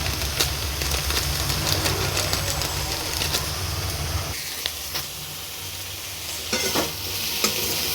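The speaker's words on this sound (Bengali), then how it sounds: "সব মশলাগুলোকে মিশিয়ে আমি একটু কিছুক্ষণ নেড়ে নেবো" Pumpkin being stirred in a pan with Kashmiri chili powder and spices, a steady sizzle with repeated scraping strokes of the spoon, loud and close, easing somewhat partway through.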